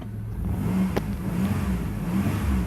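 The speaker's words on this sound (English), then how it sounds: "there you go, car starts." A Chrysler Grand Voyager engine turns over and catches, then revs and settles into a steady running hum, fairly close.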